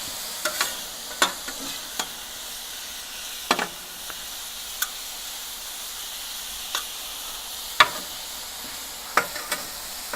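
Ribeye and vegetables sizzling on a converted Weber Spirit griddle, a steady frying hiss under scattered scraping stirs and clicks of a spatula, close and without talk.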